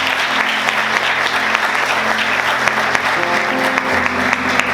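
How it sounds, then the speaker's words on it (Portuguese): A church congregation claps together with joy during a Sunday morning worship service, dense steady applause filling the room throughout, with sustained organ or keyboard tones holding underneath. "Você pode aplaudir ao Senhor essa manhã, bastante alegria."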